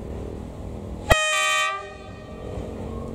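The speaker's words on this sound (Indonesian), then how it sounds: "Sangar klaksonnya ya." A Chinese Dongfeng diesel locomotive hauling flatcars of rail sounds one loud, sustained horn blast of about a second, with a sharp onset and harmonic tones over steady background rumble.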